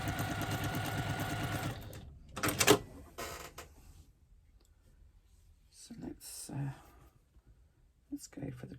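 A sewing machine stitches in a fast, steady mechanical rattle for about two seconds, then stops, followed by quieter clicks and handling sounds and a few short bursts.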